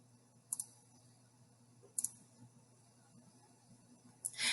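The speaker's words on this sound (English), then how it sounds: "Clicking on one of these simply opens the resource." Single mouse clicks sound close and crisp in a quiet room, a couple of quick doubled clicks spaced about a second and a half apart.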